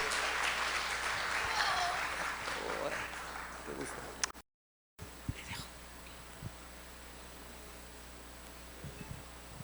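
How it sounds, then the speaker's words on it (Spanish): Applause greeting a doctor being welcomed at an event, a broad crowd clapping for about four seconds that then stops abruptly, followed by a quieter room with scattered small sounds. "Por favor, recibamos con un fuerte aplauso"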